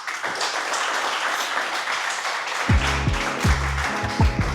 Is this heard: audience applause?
yes